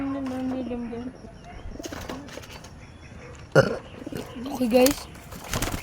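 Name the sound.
pigeons cooing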